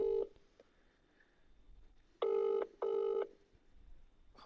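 Telephone keypad dialing tones for a phone-a-friend segment in a football podcast, a short beep followed later by two longer, loud multi-tone bursts in quick succession, with a quiet room hum between.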